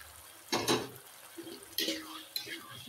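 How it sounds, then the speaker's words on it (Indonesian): A spoon scrapes and clinks in a pan as grated tomato is stirred into a chicken steak sauce, coming as a few soft, irregular bursts of stirring over a quiet background. "Ini kita akan aduk"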